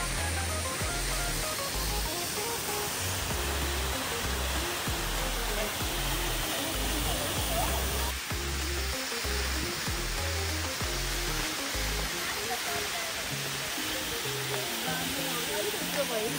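The Fung-Funge waterfall roars as a dense, constant rush of falling water, loud and close with no break, while low thumping bumps sound underneath.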